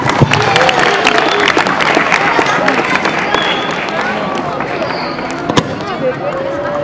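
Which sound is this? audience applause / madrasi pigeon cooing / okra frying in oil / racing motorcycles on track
audience applause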